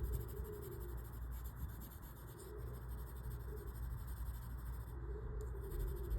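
Shading being blended on paper during a grid drawing makes a steady, faint scratching of strokes rubbing back and forth without pause, with no one talking.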